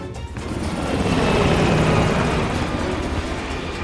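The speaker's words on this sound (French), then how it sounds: "L'hélico s'est enfui!" A helicopter in the Call of Duty Cold War campaign flies off, its loud rotor thrum swelling to a peak and then easing as it moves away.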